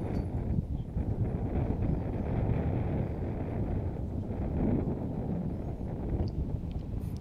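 Gusty wind buffeting the microphone on a disc golf course during a professional tournament round, a continuous low rumbling roar with slight swells, fairly loud and steady, no voices.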